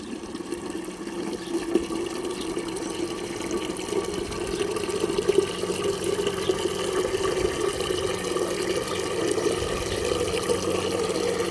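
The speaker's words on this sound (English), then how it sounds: "we'll just go directly to the spigot and fill up" Water pours steadily from an outdoor spigot into a container for watering hydrangeas in a garden, a continuous close splashing rush with no talking.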